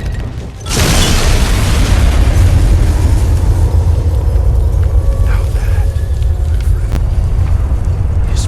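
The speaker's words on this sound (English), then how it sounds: "What a grand display of fireworks! I almost wish there was another nuke we could detonate." A nuclear bomb detonating in the video game Fallout 3: a sudden massive boom followed by a long, sustained rumbling roar that fills the whole stretch.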